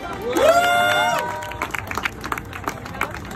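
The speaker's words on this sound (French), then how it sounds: "Je vous demande s'il vous plaît de faire un tonnerre d'applaudissements pour notre gagnant." A crowd cheers and applauds a contest winner at a Batman Day fan event in Paris, with a loud rising cheer up front that thins into scattered clapping and voices.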